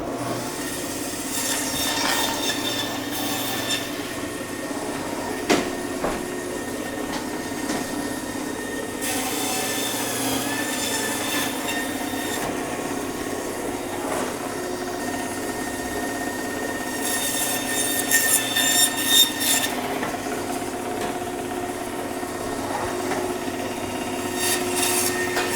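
A small bandsaw cuts through a bison front quarter, a sustained grinding whine with raspy scraping bursts and brief louder surges as the blade works through meat and bone, up close and without speech.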